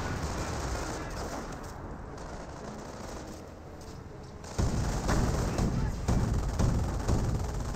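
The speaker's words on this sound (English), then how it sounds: "And now got the M2 firing away" M2 machine gun firing in Company of Heroes, a burst of loud automatic fire breaking in midway over continuous battle ambience with scattered distant shots.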